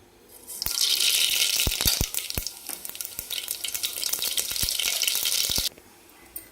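Mustard seeds hit hot oil in a pressure cooker and sizzle loudly, a bright steady hiss broken by sharp pops and crackles of seeds bursting, close up, ending abruptly.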